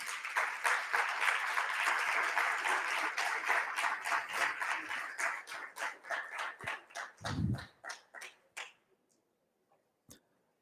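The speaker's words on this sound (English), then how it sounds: "Please give her a big round of applause." A crowd claps loudly and steadily, then the applause thins into scattered individual claps and fades out to a few last isolated ones.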